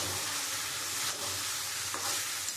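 Shrimp frying in a spiced onion-garlic masala for a Bengali prawn curry, giving a steady close sizzle with soft stirring scrapes throughout and no talking.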